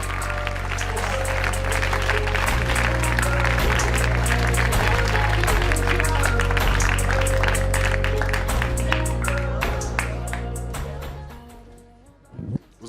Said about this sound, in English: Clap up for Leon